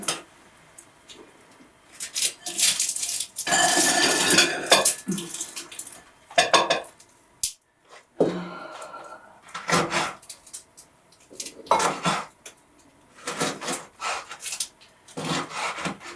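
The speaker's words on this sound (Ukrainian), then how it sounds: "а я буду капусту різати" Knife chopping cabbage for lenten borscht in a home kitchen, bursts of crunchy slicing and scraping on a board with clinks of dishes, close and irregular with short pauses.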